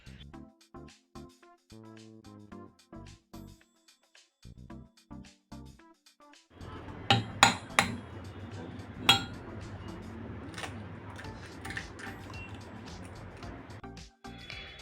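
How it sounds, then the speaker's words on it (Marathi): Two eggs are cracked into a bowl while making a bread omelette, heard as a run of sharp taps and clinks, then a few louder knocks on the bowl against a quiet kitchen background. "आता दोन अंडी टाकणार आहे मी फोडून"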